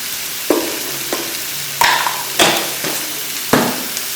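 Chicken being mixed with ground black pepper and salt, giving a series of about six distinct scraping, clattering stirs at an irregular pace, close up with no talking.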